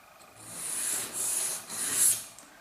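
A knife blade rasps across the coarse side of a Spyderco bench stone in three close, steady strokes, each a soft hissing scrape that swells and fades, with no talking.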